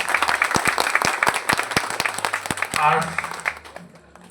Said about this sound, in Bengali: ওনার জন্য একটা ছোট্ট করে হাততালি দেওয়ার সবাই